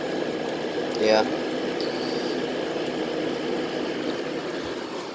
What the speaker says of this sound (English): the fan works good enough